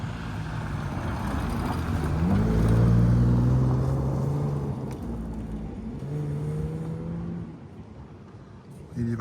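A car drifting with its engine revving, a distant motor that swells and pitches up toward the middle, then fades and settles under faint background noise.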